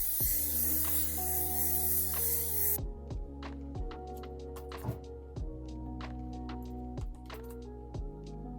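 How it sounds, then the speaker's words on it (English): A loud, continuous aerosol hiss of hairspray lasts about three seconds, then cuts off, leaving soft background music with light tapping. "I'm gonna spray it with some hairspray before the curls completely drop."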